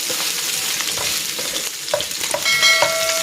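Pork sizzles in its own rendered fat in a pan for Bicol-style pork binagoongan, a steady loud hiss broken by a few sharp metallic stirring scrapes and clinks near the end.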